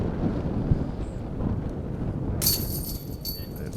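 Strong wind at a golf course during the San Francisco Open tournament buffets the microphone in a steady low rumble, with a brighter hiss joining partway through.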